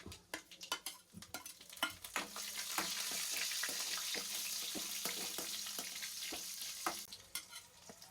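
Green chillies and curry leaves sizzle and crackle in hot oil in a pan while being stirred, with irregular spattering pops over a steady frying hiss.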